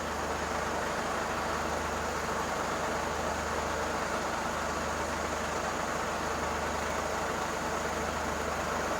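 A Mercedes Sprinter van's diesel engine, with close to a million miles on it, idles with a steady low drone. The sound is even and continuous, faint and unbroken, with no speech over it.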